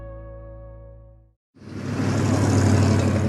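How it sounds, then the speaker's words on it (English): Rush hour car traffic starts after a sustained tone cuts off and a short gap: a dense, steadily building roar of passing cars that grows louder over the final two seconds, with no voices. "That's the sound of rush hour."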